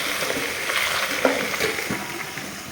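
Khichuri being stirred in a pressure cooker pot, with a soft steady sizzle of frying and scraping spoon strokes against the metal, heard close and continuous without talk.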